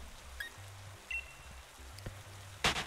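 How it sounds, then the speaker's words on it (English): Rain falls steadily in the Wild Area of the Pokemon Shield video game, a soft continuous patter with quiet game music underneath and a brief louder burst near the end. "Yeah, it's raining, I know."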